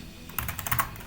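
A short burst of quick keystrokes on a computer keyboard, several close clicky taps in rapid succession as a terminal command is typed, ending with the enter key, no voices.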